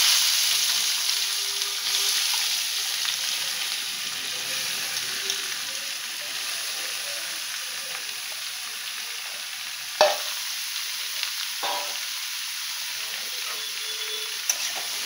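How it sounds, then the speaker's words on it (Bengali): Ash gourd frying with hilsa fish head in a pan, a long steady sizzle broken by a few sharp scrapes of the spatula as it is stirred, close and without speech. "এবার আমি এই চাল কুমড়োটা দিয়ে দেব"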